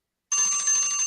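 A classic old-style phone bell ringtone, a bright continuous metallic trill starting abruptly and ringing steadily and fairly loud, with no talk over it.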